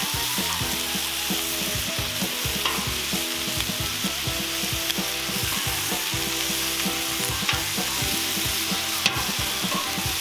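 Chicken wings sizzle steadily on a Cuisinart 360° griddle, a loud, continuous frying hiss broken by scraping and clacking as a spatula turns them one after another, with no voices.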